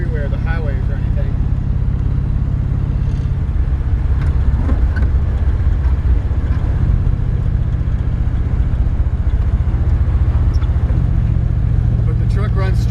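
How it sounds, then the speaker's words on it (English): A 1938 Ford F1 pickup truck, all original, drives down a road with a steady low engine and road rumble throughout, while someone talks over it. "But the truck runs straight down the road."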